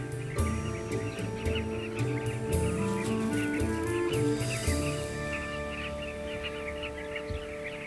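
A crowded colony of birds nesting together on a cliff face calls constantly, a dense overlapping chorus of chirps, squawks and harsh cries, busy and loud before easing slightly toward the end.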